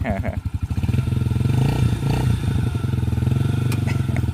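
A small Yamaha 50cc dirt bike engine idles up close with a rapid, buzzing putter, briefly revving before settling back into a steady chug.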